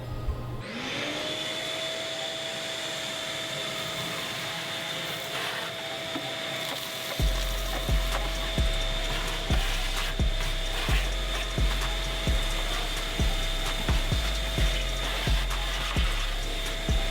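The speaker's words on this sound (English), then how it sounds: "we're going to use a shop vac to vacuum out all the ash inside the smoker" A shop vac runs continuously while sucking ash out of a pellet grill smoker, a loud steady whine joined halfway through by repeated hollow knocks and scrapes of the nozzle against the metal firebox.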